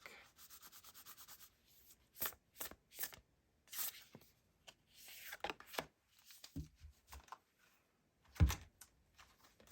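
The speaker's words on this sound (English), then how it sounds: "I'm going to pull 1 card from each" Cards drawn from oracle decks, soft papery shuffling, sliding and rubbing with a few sharper flicks and taps, close and fairly quiet with no talk.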